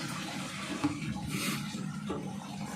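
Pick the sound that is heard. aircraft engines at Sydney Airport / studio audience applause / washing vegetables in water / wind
washing vegetables in water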